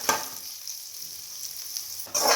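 Chana dal, urad dal and dried chilies fry in a pan with a fairly quiet, steady sizzle. A stir comes at the start, and the hiss swells louder near the end as more sizzling and stirring kick in.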